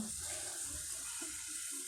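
Water pours steadily into a pan of green mango yogurt curry, a soft continuous trickle and rush heard up close without a break.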